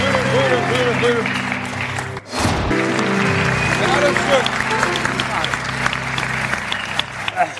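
A studio audience at a Turkish talk show applauds steadily and loudly, with a brief dip midway, while a host speaks over the clapping.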